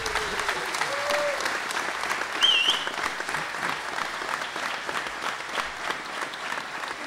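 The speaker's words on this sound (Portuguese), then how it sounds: "peço a vocês um aplauso para aqueles excelentes músicos que acompanham" Audience applauding the musicians of a philharmonic band at a Toronto sword dance event, a dense sustained clapping crowd with a whistle rising above it and voices mixed in.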